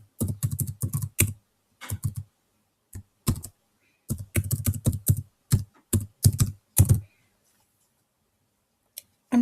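Bursts of typing on a computer keyboard, close and crisp, with clustered keystrokes separated by short pauses and a few isolated clicks toward the end; no voice.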